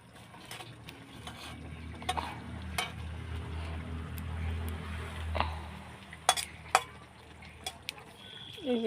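Prawns frying in oil in a pan, a steady low sizzle under scattered clinks and scrapes of a utensil against the pan, close by.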